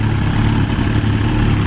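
A 2020 BMW S1000RR motorcycle being built for racing runs loud and close, its engine holding a rough, steady idle with a low pulsing drone and no voices, while a fault is suspected.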